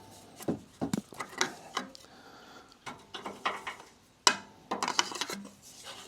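Wrench with a cheater pipe working factory bumper bolts loose on a Lexus GX470, giving a series of sharp metallic clicks, clanks and ratcheting knocks in irregular bursts, close up with no talking.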